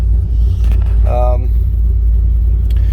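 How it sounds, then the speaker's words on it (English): A 2008 Ford Mustang GT V8 with an aftermarket tune idles nearby, a steady low rumble running throughout, with a brief stretch of talking partway through. "you can see it's sitting there and idled"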